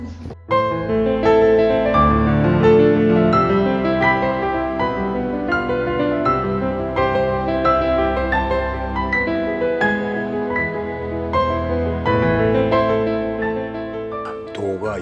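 A melodic instrumental piece plays the digits of pi as notes, a steady stream of distinct notes over chords, loud and continuous, with no voices.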